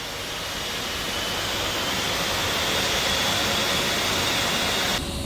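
Twin jet engines of an A-10 in the DCS flight simulator run at a steady, loud roar with broad hissing whine, holding constant throughout and briefly shifting tone near the end.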